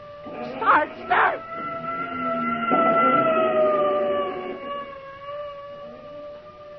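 A wailing ambulance siren in a radio drama rises and holds, slowly fading as it passes, with a couple of brief vocal sounds near the start.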